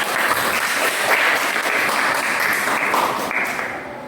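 Classroom applause from students after a teacher's request during a lesson on descriptive texts, a steady patter of many hands lasting a few seconds and tapering slightly at the end.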